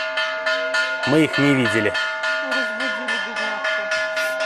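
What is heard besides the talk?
monk striking a temple bell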